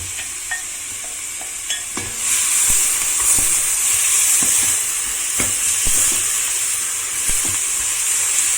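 Onions hit hot oil in a pan and break into a loud, continuous sizzle and hiss, preceded and punctuated by sharp clinks of stirring close up.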